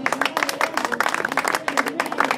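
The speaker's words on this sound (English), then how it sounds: "And now I want you to give the women a very warm clap" Audience clapping warmly for the women at a Sudan Revolution gathering, a dense, steady patter of many hands held for the full stretch, close and fairly loud.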